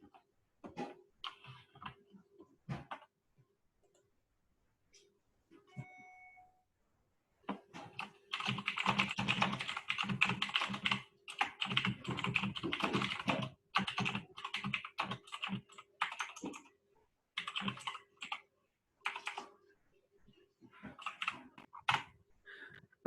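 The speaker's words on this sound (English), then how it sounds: "I've got one of these gaming keyboards. It's a little faster than my fingers are" Fingers type on a gaming keyboard, producing close, crisp clacking keystrokes in quick bursts that start and stop, with a dense run of typing through the middle and brief pauses between phrases.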